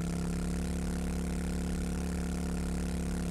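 A motorcycle engine in the video game 7 Days to Die drones with a steady, even hum, unchanging and continuous, with no talk over it.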